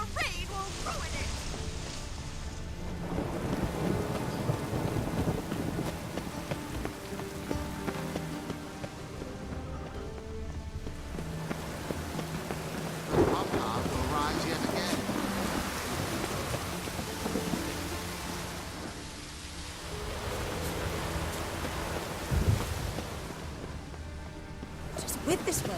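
Rain falls continuously in The Witcher 3: Wild Hunt on PS4, a steady wash of downpour with faint distant thunder, while a voice talks over it throughout.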